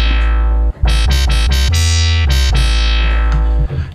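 A harsh, metallic synth bass growls in loud, choppy bursts that stutter and cut off rhythmically, with a deep sub rumble underneath.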